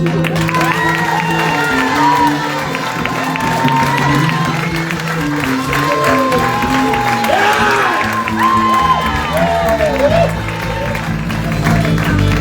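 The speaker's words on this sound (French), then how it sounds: "Il acclame le Seigneur." A church congregation cheers and shouts praise to the Lord in loud, overlapping voices with whoops and clapping mixed in, sustained as a dense crowd roar throughout.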